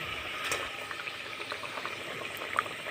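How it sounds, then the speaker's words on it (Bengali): Mustard gravy for a bata fish curry bubbling in a pan just as the fish pieces go in. The simmer is soft and continuous, with a few faint clinks. "ঝোলটা ফুটে উঠেছে মাছগুলো দিয়ে দিচ্ছি"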